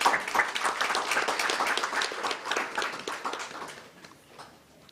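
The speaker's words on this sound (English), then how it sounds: "I think we need an applause for this" An audience at a National Voters Day celebration applauds in a dense, steady burst of clapping that holds strong for several seconds and then gradually tapers off.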